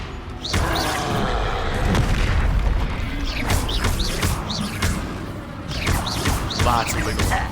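Confringo and Bombarda spells explode again and again during a busy Hogwarts Legacy battle, with dense booms and crashes layered over a constant rumble and bright whooshing magical effects. Voices are also heard in the fray.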